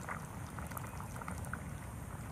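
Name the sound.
stew boiling in a pot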